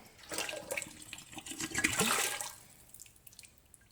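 Hot water pours and splashes for about two seconds, a close liquid gush that builds and then tapers off into quiet trickles.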